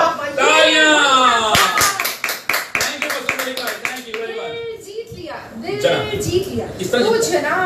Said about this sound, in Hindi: वाह वाह, तालियां